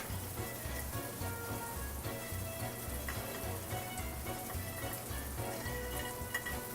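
Pasta tipped into a pan of salmon sauce, giving a steady, dense sizzle and crackle that carries on evenly throughout with no voices.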